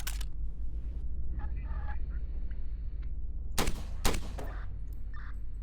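Shots fired at car tyres in the police game Flashing Lights: two sharp, loud cracks close together near the end, over a steady engine and traffic rumble with faint horn-like tones earlier.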